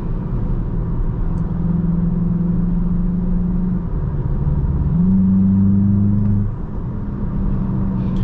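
A 2023 VW Jetta GLI in Sport mode cruises on the Autobahn, its engine droning loud and steady from inside the cabin, the pitch stepping down and back up as it shifts, with a faint turbo whine underneath.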